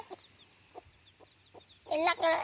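Chickens give a few short, spaced clucks, then a louder, busier burst of clucking breaks out near the end.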